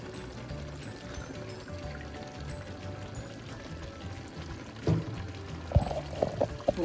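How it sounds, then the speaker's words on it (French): Water is poured into a nearly empty tomato paste can to rinse it, a quiet trickle and splash that rises into a few louder sloshing gurgles toward the end, with no speech. "Pour bien rincer la boîte de tomates parce que il restait que un peu de tomates concentrées"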